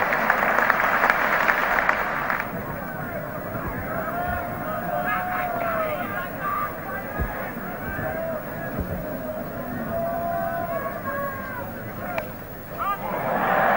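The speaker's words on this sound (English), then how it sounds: "Applause for Barry Wood and for Thompson." A cricket crowd at the 1975 England versus Australia second Test applauds a dismissal, loud clapping at first that quickly settles into a softer crowd murmur under a commentator's voice.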